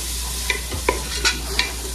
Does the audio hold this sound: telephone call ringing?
no